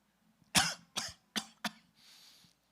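Four harsh, forceful coughs in close succession, each a sharp burst with a short tail, followed by a softer breathy exhale; close and alone with no speech.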